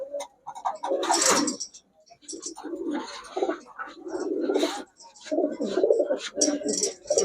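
Giribaz pigeons coo at a pigeon shop, several birds giving repeated throaty coos in overlapping bursts, close and fairly loud, with brief gaps between calls.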